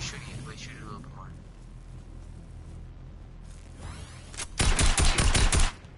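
Video game gunfire sounds as one loud, rapid burst of closely spaced shots near the end. Before it comes a quieter stretch with faint background game noise and a voice.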